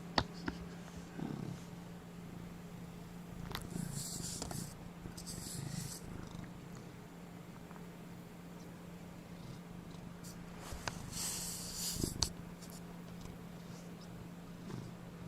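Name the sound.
cat purring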